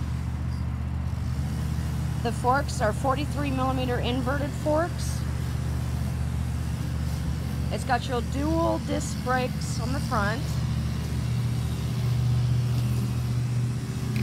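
A 2017 Harley-Davidson Sportster Roadster XL1200 with a 1200cc air-cooled, fuel-injected engine and stock exhaust idles with a steady low rumble throughout, while someone talks over it.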